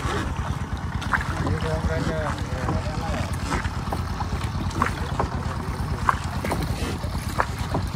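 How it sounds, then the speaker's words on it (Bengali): A boat glides across the water of a village fish farm at Korchapur in the evening, giving a steady broadband wash of water and wind noise throughout, with voices talking over it. "আমরা সন্ধ্যার সময় নৌকা নিয়ে ঘুরছি"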